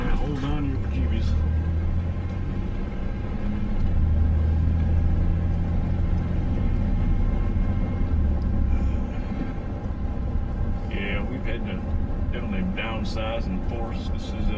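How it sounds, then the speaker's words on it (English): An old pickup truck engine drives along with a steady low rumble and road noise throughout, while people talk over it. "This is actually my pickup truck. It's old."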